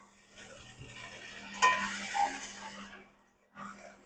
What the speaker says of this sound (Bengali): কাঁচা তেলে ভাজতে হয় সবজিগুলো